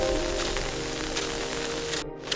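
Heavy rain around a river area, a dense, steady hiss of falling water close by that continues unbroken for the whole moment, with no voices.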